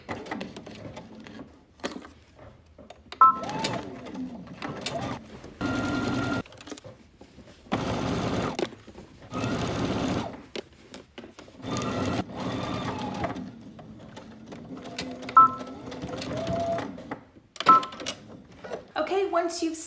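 A home sewing machine stitches the fly of a garment with a 5/8-inch seam allowance, running in several short mechanical bursts separated by pauses, close and fairly loud, with a person talking between the runs.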